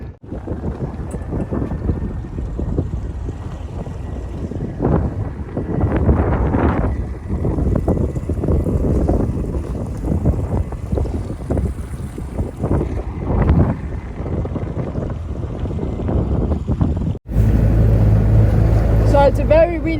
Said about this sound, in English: So it's a very windy day